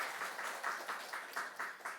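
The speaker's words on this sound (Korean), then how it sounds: "우리 그런 의미에서 우리 한번 격려의 박수 한번 드릴까요?" Scattered clapping from a church congregation during a Sunday service, a small group giving rhythmic, fairly quiet applause with evenly spaced bursts.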